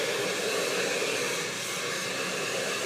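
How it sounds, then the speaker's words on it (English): A handheld blow dryer drying hair runs in one continuous, loud airy roar, steady and close for the whole stretch with no pauses. "I'll take my blow dryer and my scissors together."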